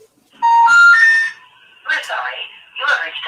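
A phone plays a tone of three short electronic beeps, rising in pitch and close by, followed by a recorded voice speaking.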